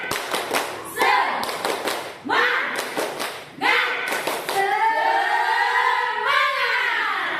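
A group of women in a school training session performs a rhythmic spirit clap: bursts of quick, patterned claps in sets, followed by loud chanting voices shouting together.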